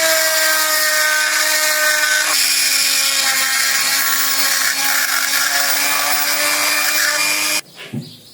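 A small rotary bur drills holes through an alabaster bead for a cube-shaped necklace, giving a loud, steady high-pitched whine that dips slightly in pitch midway and cuts off abruptly near the end, followed by a brief clatter.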